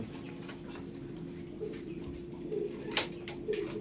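Pair of imported Mongla Giri breeding pigeons cooing softly at close range, low throaty coos recurring every second or so over a steady background hum, with a few faint chirps.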